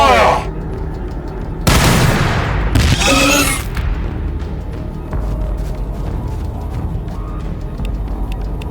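Heavy gunfire volleys and booming blasts from a Warhammer 40K Battlesector battle, loud broadband bursts around two and three seconds over a continuous rumbling battlefield din with scattered later shots.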